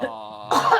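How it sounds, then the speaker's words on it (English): A brief, close cough bursts out right after a short drawn-out vocal sound, with a raspy, throat-clearing edge. "I'm not sneezing, I'm coughing."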